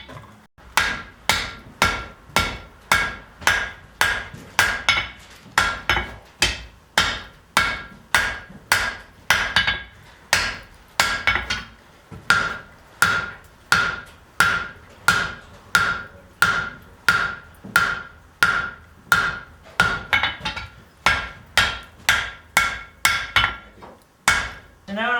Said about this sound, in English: I'm actually forging in the tang